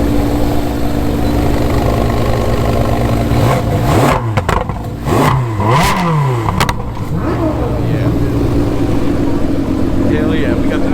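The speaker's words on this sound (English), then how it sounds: "Give me some rev action" A car engine at a private car meet revs hard, the pitch swooping up and down in several loud bursts over a steady idle, with voices and crowd noise underneath.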